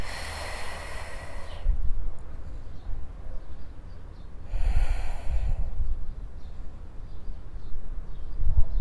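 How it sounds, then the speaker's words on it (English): Deep breathing during a beginner yoga session: two strong breathy bursts, one at the start and another midway, over a steady background hiss, with no talking. "Deep breaths."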